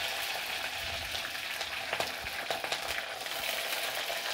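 Garlic, curry leaves and green chillies frying in hot oil in a pan for a Chettinad-style kola fish curry, with a steady, fairly loud sizzle and a few sharper crackles and spatters.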